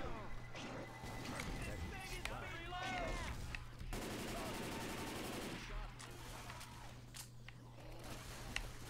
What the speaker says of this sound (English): What is that keeps blowing up? Oh, I have a grenade launcher.